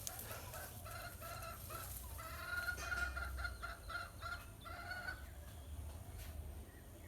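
Several chickens cluck in short, repeated bursts over a steady low rumble, with a louder cluster of calls in the middle.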